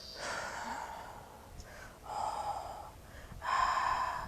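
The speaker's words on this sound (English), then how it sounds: "This is called the ha breathing, and it comes from Hawaii, where ha means your breath." Slow, deep Hawaiian-style ha breathing: about three soft, breathy exhalations in a quiet room, close and unhurried, with pauses between them.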